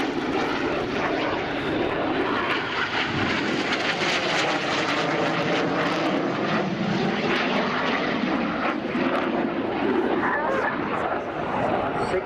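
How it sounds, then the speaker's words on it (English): Red Arrows jets roar loudly and continuously overhead at an air show while flying the opposition barrel roll, with a commentator talking over the engine noise. "Synchro pair pilots now lead full power on the jets."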